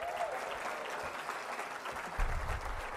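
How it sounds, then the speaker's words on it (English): Audience applause for Senator Dick Durbin at a Democratic chairmen's breakfast, steady moderate clapping through the room, somewhat distant, with a low bump of handling noise near the end. "we owe them an extra special round of applause"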